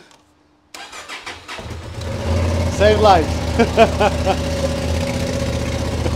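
A Honda Transalp motorcycle that had trouble starting cranks briefly, fires up and settles into a steady, loud idle with a few small blips of the throttle. A voice is briefly heard over the engine.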